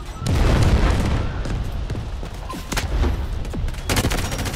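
Grenade blast and heavy gunfire in the Delta Force Hawk Ops alpha: a loud boom opens a dense, sustained fusillade of shots and bursts that keeps rolling with a second surge near the end.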